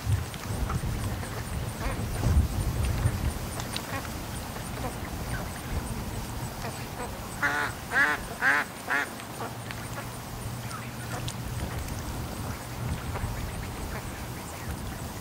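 A flock of about 25 to 30 ducks by a lake gives a short burst of several quacks midway, set against steady outdoor background noise with some low rumble.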